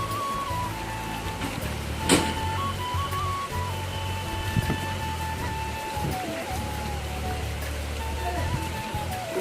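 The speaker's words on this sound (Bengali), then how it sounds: "তো বৃষ্টি পড়া শুরু হয়ে গেছে" Rain falling steadily around a water tank, an even patter with a faint tonal hum and a few sharper knocks mixed in.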